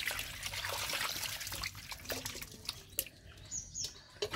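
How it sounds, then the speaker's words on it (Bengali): Faint water trickles and pours while freshly cut fish is washed in the morning, soft and close, with a few birds calling in the background. "সকাল সকাল মাছ কাটা শুরু হয়ে গেছে, কাটা ধোয়া।"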